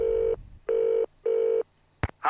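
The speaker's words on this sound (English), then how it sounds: "Let's call Ned" A telephone in a Nancy Drew video game dials a call: three long, even tones with short gaps between them, followed by sharp clicks, loud and close with no voices.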